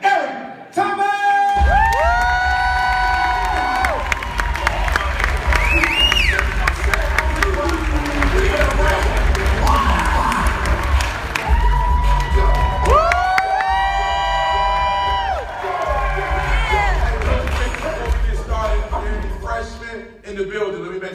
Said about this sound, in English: Put your hands together for the hip hop preacher, Eric Thomas.